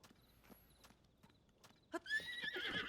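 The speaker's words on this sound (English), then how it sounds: "You are a spotted horse." A spotted horse in The Legend of Zelda: Tears of the Kingdom gives a loud, shrill whinny after a few soft hoof clops and faint ambient sounds, heard close and alone.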